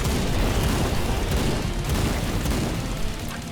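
A Holy Hand Grenade explodes in the video game Age of Hell, a loud, heavy rumbling blast that roars continuously for several seconds before easing slightly.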